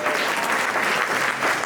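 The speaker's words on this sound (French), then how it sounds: "Bravo à tous, vous pouvez tous vous applaudir encore une fois." Audience at the close of a short-film screening applauding steadily, a dense even wash of clapping from many hands throughout, fairly loud and close.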